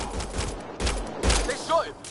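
Gunfire in Mass Effect: Andromeda comes as a few short, loud bursts of shots close together, followed by a brief voice near the end.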